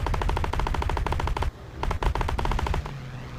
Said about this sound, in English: 20mm autocannon.